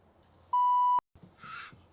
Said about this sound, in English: We're just going to beep him every time he says it so we don't have to hear it over and over.